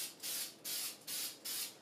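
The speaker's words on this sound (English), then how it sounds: "finished the board with a couple coats of spray shellac" Four short bursts of shellac sprayed from an aerosol spray can onto a wooden board, each a bright hissing puff of about a quarter second, evenly spaced and close up.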